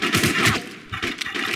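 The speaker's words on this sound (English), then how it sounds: "Who's shooting at me?" Gunfire in the War Inc Battle Zone video game: a quick burst of several close, sharp shots in rapid succession within a second or two, loud and without talk.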